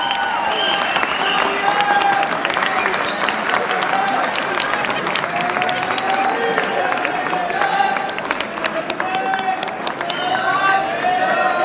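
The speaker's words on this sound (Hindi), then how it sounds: "आपकी तालियां रुकनी नहीं चाहिए प्लीज।" A large audience at a poetry mushaira applauds steadily, a dense, continuous wash of clapping with a murmur of crowd noise, with no spoken words over it.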